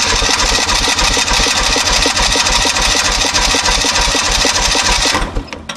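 An old Kubota tractor diesel engine, left in weeds for over 20 years and low on compression, cranks over in a steady rapid chugging rhythm, loud and close, then stops abruptly near the end.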